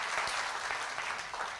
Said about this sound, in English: a huge round of applause if you are liking the conversation